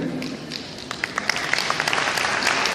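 Audience applause during a business motivational talk, a short burst of mid-level clapping from a crowd, scattered and uneven, rising slightly toward the end.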